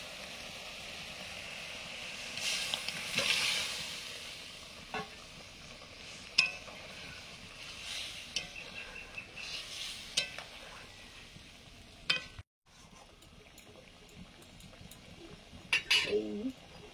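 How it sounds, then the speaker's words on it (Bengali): A spatula scrapes and stirs boiled potatoes and elephant yam into fried spice paste in a pan, with soft sizzling and scattered clinks of metal on the pan, while someone talks quietly. "এবার আমি ওই সেদ্ধ করা আলু আর ওলগুলো ঢেলে দিচ্ছি"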